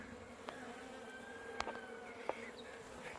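Bees and other insects buzzing around a birdhouse with an ant problem, a steady faint drone with a few brief louder passes of individual insects close by.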